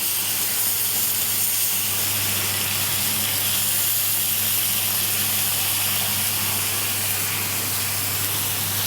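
Pomfret fish frying in a hot pan of oil just after being flipped, with a steady, close, even sizzle and hiss that does not let up.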